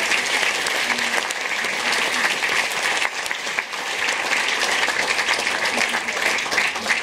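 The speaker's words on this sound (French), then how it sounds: "On peut aussi les applaudir bien fort." An audience at a film festival closing ceremony claps steadily and warmly, a full, even round of applause from many hands that carries on throughout with only a brief dip midway.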